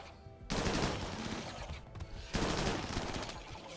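Gunfire in the video game Rimworld crackles in two dense, loud bursts of rapid shots, separated by a brief lull, with no talk over it.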